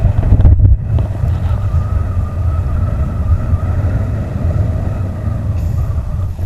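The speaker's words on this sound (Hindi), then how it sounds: "बहुत तेज़ हवा चल रही है यहाँ पर।" Strong wind roars against the microphone on a mountain near Gue monastery in Spiti, a loud, steady buffeting rush with no break, and a low rumble underneath.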